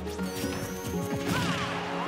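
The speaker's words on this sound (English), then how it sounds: "that F smash came out of nowhere and it hits his mark" A forward smash attack lands in a Super Smash Bros match, a sharp crashing hit layered over busy game sounds and music, loud and continuous across the short moment.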